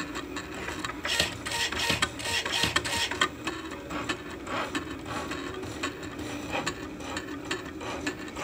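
A Cricut cutting machine with a rotary blade cuts the body and ears of a paper mouse, giving a steady mechanical whir with rapid repeated ticking and rolling movements, close and moderately loud.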